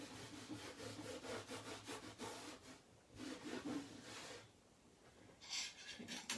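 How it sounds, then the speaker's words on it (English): Edges of a chalk-painted wooden sign being sanded by hand, a series of rough back-and-forth rubbing strokes in bursts with short pauses, close but quiet. "So I will sand the edges"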